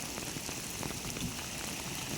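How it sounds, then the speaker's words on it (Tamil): Rain falls steadily on a pond during a fishing outing, a dense even hiss of drops on the water close by, with no talking over it. "சுற்றி பாருங்கள் எப்படி மழை பெய்யுது"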